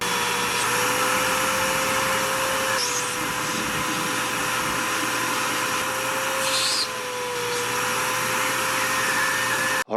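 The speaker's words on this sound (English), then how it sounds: "we'll get the shop vac on here and we'll kind of suck more coolant out" A shop vacuum sucking coolant from a Chevy Bolt EV drones steadily and loudly, with brief gurgling slurps as liquid is drawn up, then it cuts off abruptly.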